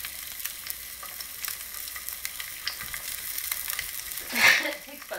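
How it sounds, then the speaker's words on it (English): A frozen Beyond Meat Beast Burger patty fries in a skillet with a touch of oil, giving a steady, close sizzle with light crackles and a brief louder burst near the end; no one speaks. "Cook frozen patty in skillet with touch of oil on both sides until lightly brown"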